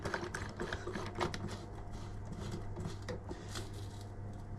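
A scooter top cap compression bolt being tightened with an Allen key, making faint, close clicking and light metallic ratcheting taps in an uneven rhythm over a low hum.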